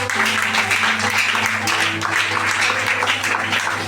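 A church congregation applauds and cheers in praise of the Lord, dense rapid clapping sustained loud throughout, with a low organ or keyboard tone droning underneath.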